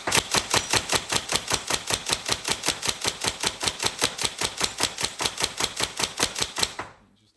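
Tokyo Marui MK18 Next Gen airsoft rifle firing rapidly as its drum magazine feeds BBs, a fast, even stream of sharp mechanical clicks and thumps for about seven seconds before stopping abruptly.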